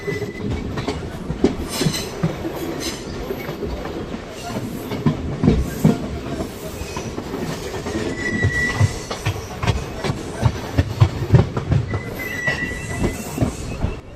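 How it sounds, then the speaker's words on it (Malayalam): A DEMU train on the Salem to Vriddhachalam line runs steadily toward Salem Town station, heard from on board as a loud continuous rumble with rhythmic wheel clatter and occasional squealing. "നമ്മുടെ ഈ ട്രെയിൻ അങ്ങനെ ഇതാപ്പോൾ അതിൻ്റെ രണ്ടാമത്തെ സ്റ്റേഷനായ സേലം ടൗൺ റെയിൽവേ സ്റ്റേഷനിലോട്ടാണ് ഇതാപ്പോൾ എത്തിക്കൊണ്ടിരിക്കുന്നത്"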